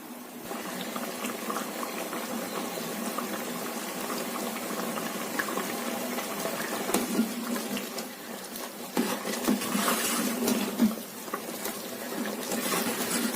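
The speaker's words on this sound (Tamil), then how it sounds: "இன்னும் கொஞ்சம் கொதிக்கட்டும்." A pot of jackfruit payasam made with coconut milk boils steadily with dense bubbling and popping, loud and close, continuing without a break and without voices.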